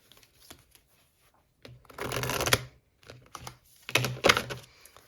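A deck of Angel Answers oracle cards being shuffled by hand, two close bursts of rapid riffling and shuffling with soft card taps between them, with no talking.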